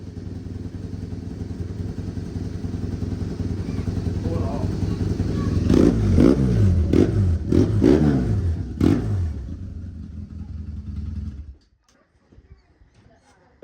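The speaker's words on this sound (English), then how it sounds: "It sounds like a dirt bike." Dirt bike motorcycle engine running nearby with a steady low rumble, rising in a few sharp revs in the middle, then cutting off abruptly near the end.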